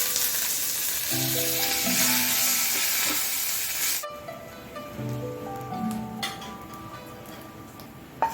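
Curry leaves hit hot coconut oil in a Kerala puliyinji tempering, a loud, bright sizzle that cuts off abruptly midway and gives way to softer crackles and faint clinks, with music underneath.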